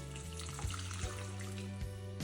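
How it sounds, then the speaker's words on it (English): Water just off the boil is poured from close by directly onto gelatin in a bowl, making a steady continuous splashing rush that holds at an even, fairly quiet level from start to finish. "Now we'll go ahead and add our 1/3 cup of water just off the boil."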